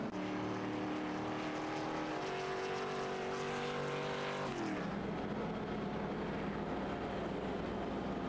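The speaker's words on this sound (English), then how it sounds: "a couple of cars sliding by." Race cars roar past at a speedway during an ARCA Snowstorm 100, a loud continuous engine drone that shifts pitch as the cars slide by.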